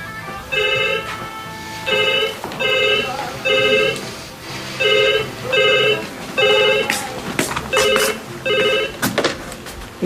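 A telephone bell rings in repeated double bursts, fairly close, against a busy background with faint clatter and sharp knocks toward the end.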